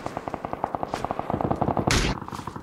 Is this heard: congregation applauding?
no